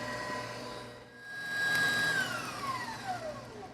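An electric mixer whirs steadily while whipping egg whites to soft peaks, its motor pitch rising and then gliding downward, a faint continuous hum heard close up with no talking.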